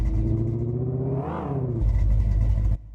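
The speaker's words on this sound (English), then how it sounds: "The two first blend containers are made with steady RPM loops of 1960s V8 engines. One for the low-end exhaust sound" A looped 1960s V8 engine holds a steady low exhaust rumble. Partway through it swells in a brief rev before settling back into a deep, continuous drone, then cuts off abruptly near the end.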